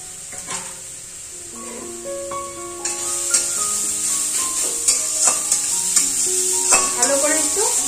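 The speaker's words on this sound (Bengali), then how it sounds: "ভালো করে একটু গাজরটা আমি ভেজে নেব।" Grated carrot sizzles steadily in hot ghee while a spoon scrapes and stirs the pan in irregular knocks, close and moderately loud, with faint tonal sounds in the background.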